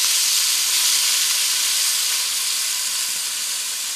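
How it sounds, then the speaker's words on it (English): Red wine is poured into a hot pot over onions and carrots for a Montana-style pot roast, giving a steady, loud hiss and sizzle that holds evenly throughout. "Now I'm going to cover it with the same red wine that we're going to serve for dinner"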